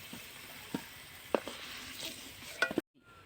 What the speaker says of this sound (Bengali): আলু ভাজা হয়ে গেছে। এবার আমি নামিয়ে নিচ্ছি।